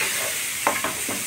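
Spice paste of chili, turmeric, cumin and coriander powder mixed with water being fried in hot oil, a steady loud sizzle with a few brief stirring scrapes near the end.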